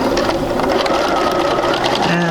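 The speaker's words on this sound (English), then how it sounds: "And sew off." A sewing machine stitches a seam on a basic sampler quilt block, with a steady, fast, close mechanical whir throughout and a voice speaking over it.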